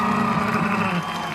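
Concert audience clapping and cheering at a show, a loud crowd roar that stays dense and steady before easing slightly toward the end.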